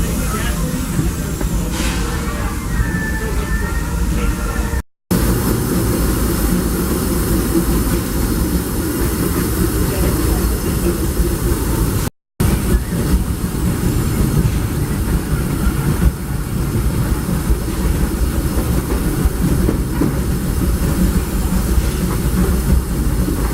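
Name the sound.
Disneyland Railroad train starting to move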